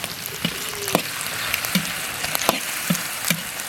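Pork stir-frying in a wok with dark soy sauce, alongside scallion, ginger and dried chili in oil: a steady close sizzle with periodic sharp scraping strokes of the spatula roughly every half second.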